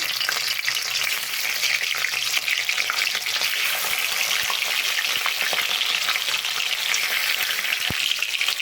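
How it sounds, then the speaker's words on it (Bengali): Fish heads frying in hot mustard oil in a wok make a loud, steady, close sizzle, with a few light clicks of stirring scattered through it. "আমি এখন মাছের মাথাগুলো ভেজে নেব তার জন্য কড়াইয়ে দিয়েছি সর্ষের তেল"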